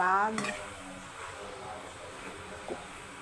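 Bottle gourd (upo) being stirred with ground meat in a pan, quiet scraping and a light sizzle, a faint clink near the end, while a voice talks over it.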